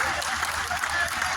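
A crowd at a political rally claps loudly and steadily for the chief minister, a dense, continuous burst of hand claps that fills the whole moment.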